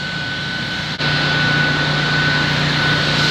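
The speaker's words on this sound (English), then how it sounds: "It's a leaf blower, Bernie." A leaf blower running near a golf course, a loud, steady whine with a constant high tone and a low drone, briefly dipping before resuming.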